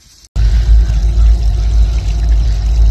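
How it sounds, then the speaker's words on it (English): Steady rushing spring water flowing continuously, a full low roar close by with no voices, starting abruptly after a brief quiet moment. "We got this spring water coming down."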